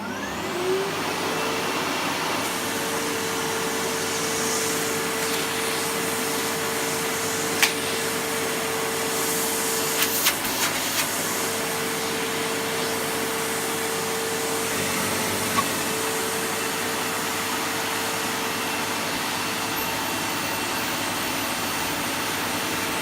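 A SEBO Automatic X4 Pet Eco Boost vacuum cleaner runs with its extension hose, a steady loud whirring drone with brief clicks and bumps as the hose is moved.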